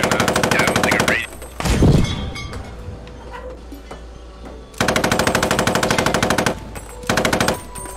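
Sustained machine gun fire in the tactical war shooter Post Scriptum, loud rapid bursts that stop, give way to a sharp blast and scattered quieter shots, then resume in long rattling volleys near the listener.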